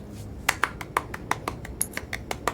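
A quick, uneven run of sharp hand claps: about a dozen crisp, close slaps in under three seconds, with no speech.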